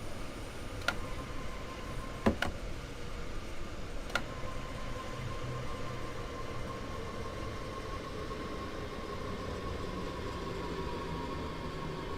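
A Southeastern Class 363 high-speed electric train in Train Sim World 2 runs steadily with a constant rolling rumble and hum, punctuated by a few sharp metallic clicks over the rails.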